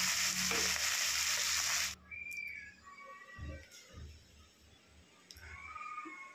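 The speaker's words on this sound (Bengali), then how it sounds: "এই মাছগুলোকে প্রথমে আমি ভেজে নিচ্ছি," Fish frying in mustard oil in a pan, with a loud sizzle that stops after about two seconds, then quiet kitchen clatter, a few faint chirps and soft background noise.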